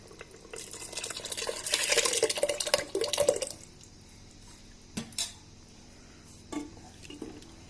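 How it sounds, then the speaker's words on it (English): Dal poured into a pot of simmering mutton gravy, a brief wet splashing slide with spoon clinks against the pot, followed by a few faint taps and a quiet bubbling pause. "Now I'm going to add my dal to it."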